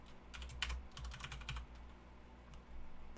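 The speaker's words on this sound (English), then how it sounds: "I was actually typing out C7CEO" Quick bursts of keystrokes on a computer keyboard during a hex-editing session, clattering in short irregular runs with brief pauses, close and fairly quiet, no voices.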